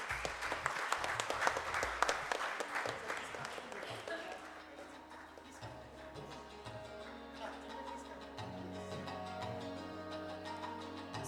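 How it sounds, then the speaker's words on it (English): Applause from a conference audience honouring a speaker at an AI for doctors event, strongest at the start then thinning into a steady patter beneath sustained music tones. "the round of applause should continue for his vision"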